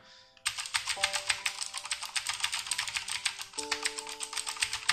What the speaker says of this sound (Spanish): Aquí podéis escuchar el sonido que hace cuando tecleo.